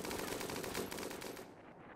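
Rapid automatic fire from a turret in the colony-building game Rimworld, a dense continuous burst of shots that thins out near the end, with no talking over it.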